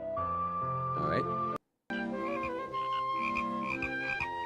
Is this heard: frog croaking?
yes